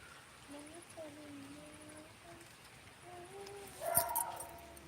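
A dog whimpering and whining in several thin, drawn-out cries, faint and fairly close, with a short sharper yelp or bark near the end and a low hum of background noise.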